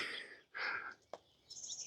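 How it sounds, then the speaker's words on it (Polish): Small birds chirp faintly in a mountain orange orchard near Cullera, Spain, a few short, high tweets and trills spaced apart against a quiet background. "jak ptaszki pięknie śpiewają"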